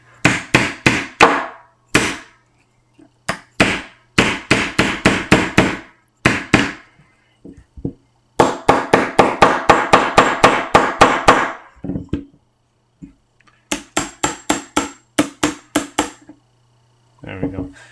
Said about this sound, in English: I gave it that was a very stiff whack to get that pin in there.